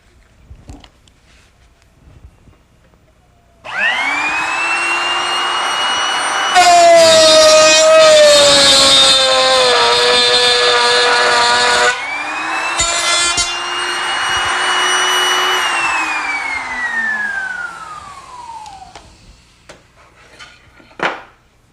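A router cuts the mating dovetail piece in wood with a loud, high, sustained whine that holds steady while the bit is in the cut, then winds down as the motor spins to a stop.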